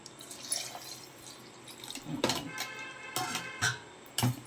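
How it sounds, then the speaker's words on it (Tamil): Water poured into a ground drumstick leaf paste for a home-cooked soup, heard as short intermittent splashes and trickles close by, with no talking. "இப்போ இந்த பேஸ்ட்டில் இந்த தண்ணி ஃபுல்லாக நம்ம சேர்க்க போகிறோம்."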